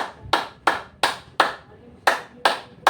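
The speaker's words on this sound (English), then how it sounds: "then clap." Hands clap sharply during a yoga session, about eight crisp, evenly spaced claps in a steady rhythm, close and distinct with near silence between them.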